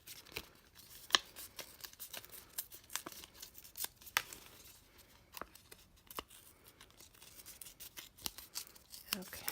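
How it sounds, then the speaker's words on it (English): Paper is torn by hand for a junk journal page, producing a steady run of faint, close ripping and crinkling ticks throughout, with quiet room noise and no clear talk. "I'm gonna stick that down and then I'm gonna tear up so that like the white shows around it."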